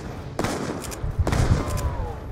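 Two heavy shotgun blasts in the Call of Duty Zombies map Origins, evenly spaced and loud, each with a booming tail, set against a busy in-game background and with no talk.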